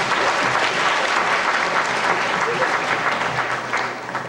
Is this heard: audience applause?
yes